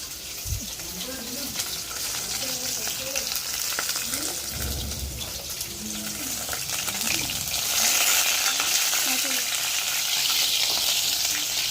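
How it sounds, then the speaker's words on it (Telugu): Chicken pieces frying in a pan, giving a loud crackling sizzle that continues throughout and swells toward the end, with a voice talking over it in the first half. "చికెన్ ముక్కలు అయితే ఫ్రై అయ్యేది చూద్దాం పదండి"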